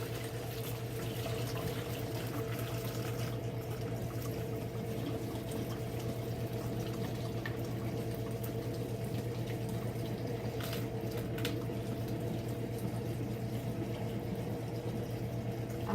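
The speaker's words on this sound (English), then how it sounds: "I'm going to pour it through this colander into a pitcher." Hot cherry juice from a pressure cooker pours through a colander into a pitcher, a steady, continuous liquid rush with a low hum beneath it throughout.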